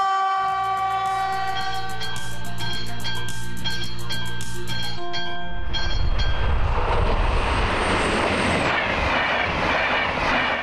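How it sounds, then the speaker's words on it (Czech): Train wheels roll along the rails of a Czech railway, with a sustained tonal drone that gives way to a loud, broad rumbling roar as the train passes close by. "největší hluk vydává válení kola po kolejnici"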